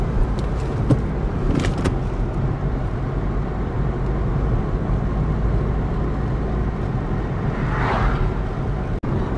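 Car driving on a road, steady loud tire and engine rumble from inside or close by, continuous throughout with a brief knock near the end.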